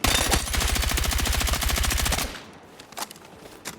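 Rapid automatic gunfire in the video game Battlefield while shooting at targets, a loud, fast, even burst of shots that stops after about two seconds, leaving quieter game ambience and a few faint sounds.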